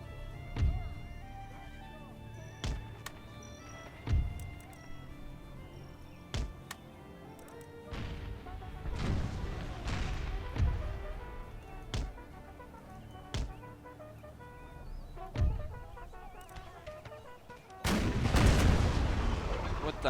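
Artillery booms in a Civil War battle game, a dozen or so separate sharp cannon reports spaced irregularly, some distant and some closer, ending in a heavier rumbling blast, with faint voices between.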